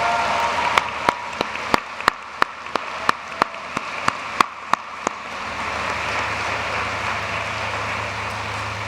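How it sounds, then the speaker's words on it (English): Broad, steady applause from a commencement ceremony crowd thanking the faculty, with a string of sharp, evenly spaced claps close by standing out over the wash for several seconds before the hall settles. "give them a round of applause of thanks"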